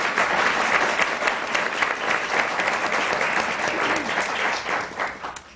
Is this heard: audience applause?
yes